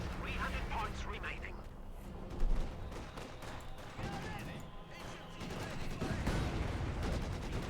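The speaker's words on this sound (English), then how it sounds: "Katyusha though on the way for JDS and the Red Army" A Katyusha rocket artillery barrage in Company of Heroes 2 rumbles as a dense, continuous wash of distant blasts and gunfire, with a louder thump partway through, all under constant commentary.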